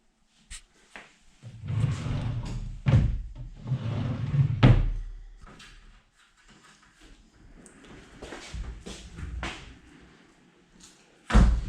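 Drawers inside a three-door high-gloss chipboard bedroom wardrobe with a mirrored middle door slide open and shut, giving a series of close wooden thumps, knocks and sliding rumbles spaced irregularly, ending with a sharp closing knock.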